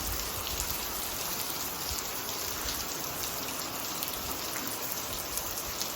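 Steady unseasonal rain falls on an open rural farm area, a dense even hiss of drops on surfaces with a constant high whine in the background, with no talking throughout.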